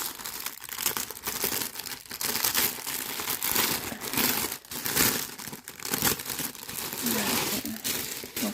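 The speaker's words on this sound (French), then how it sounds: "Donc on va les ouvrir, on va regarder une pochette" Plastic packaging pouches from a cross-stitch kit crinkle and crackle as they are handled and opened, close and continuous, with a faint voice murmuring underneath.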